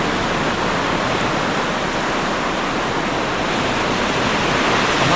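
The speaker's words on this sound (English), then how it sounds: "The tide is flying in here." Waves of an incoming tide break on a beach in Dublin, a loud, continuous roar of surf with no voices.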